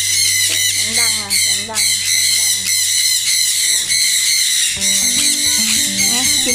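A sun conure parrot gives loud, harsh, repeated squawks and shrill calls close by, nearly continuous, with a person's voice mixed in.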